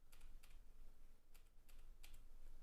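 Keys clatter on a computer keyboard running custom Nim firmware, a short burst of quiet, close keystrokes in uneven clusters with no voices.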